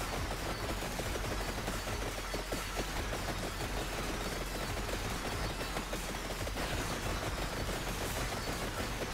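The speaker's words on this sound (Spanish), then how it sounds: "¿Ya vieron esas explosiones? Que son como fuegos artificiales." Rapid, dense crackling bursts from an evolved rune weapon in the game Vampire Survivors, a steady unbroken barrage of small explosions popping like fireworks, loud and continuous throughout.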